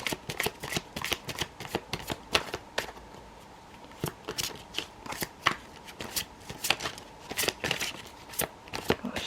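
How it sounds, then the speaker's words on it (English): Cards riffle and shuffle again and again, crisp rapid flutters with short pauses between, close and fairly quiet, with no talking. "It's always a mess shuffling this deck."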